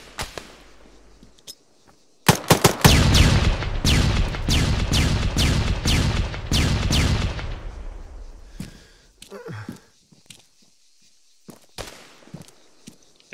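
Gunfire during MOUT urban combat training, a rapid loud burst of about a dozen sharp shots, then scattered fainter pops and movement noise afterward.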